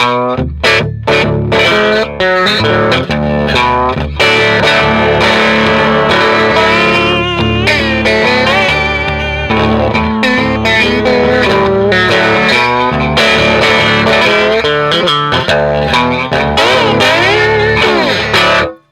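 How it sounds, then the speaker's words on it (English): A distorted electric slide guitar, a King B&G Little Sister copy, plays sustained, gliding notes with heavy effects, loud and continuous with no talking. "So for that slide sound, you can't really beat this thing."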